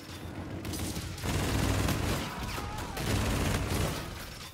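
The Auger light machine gun firing in Infinite Warfare: sustained, dense, heavy fire rolling on for several seconds in surging waves, moderately loud and with no talk over it.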